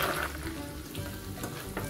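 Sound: walnuts roasting in melted butter in a pan

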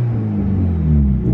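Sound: Nissan Skyline car engine with new turbo

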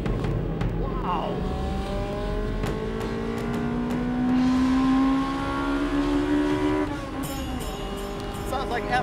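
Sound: small classic sports car engine revving while driving

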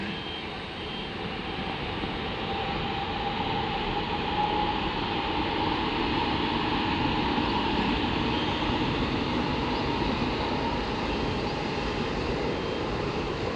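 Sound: MRT train passing

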